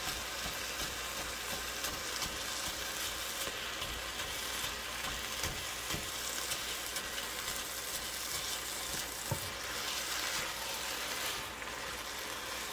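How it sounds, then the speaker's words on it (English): Stir-fry with egg sizzling steadily in a very hot pan, a continuous bright hiss with occasional faint clicks of stirring, no one speaking. "I don't ever turn the heat down because you're going to need that to cook the egg"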